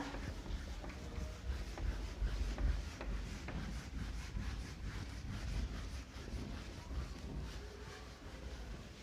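Writing is rubbed off a board with steady, repeated scrubbing strokes, a close rough rubbing that continues throughout with no talk.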